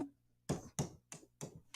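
A bracelet clinks against a wall in five or six sharp, close taps at an uneven rhythm, each one crisp and bright and followed by a short fade.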